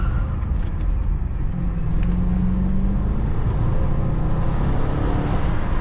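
Remapped 309 hp BMW X5 4.4i E53 V8 SUV pulling hard in first gear on a curvy road: a steady, loud engine drone that rises in pitch, heard from inside with no talking.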